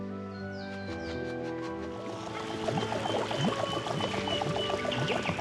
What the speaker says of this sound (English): The pump is working beautifully. Ready to pump out the rest of the water?